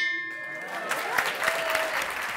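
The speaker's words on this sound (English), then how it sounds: "Give yourself a round of applause" Audience applause closing a City Club forum: a dense, steady wash of clapping with sharp individual claps, alongside sustained tonal hum in the room.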